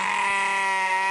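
Close, loud sheep bleat, a single sustained wavering cry from a flock, heard alone with no talk over it.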